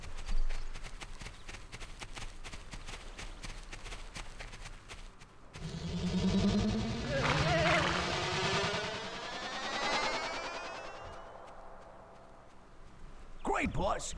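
Horse hooves clip-clop in a steady walking rhythm in the video game Black & White, then a louder stretch of mixed game sounds and movement, with a sharp burst near the end.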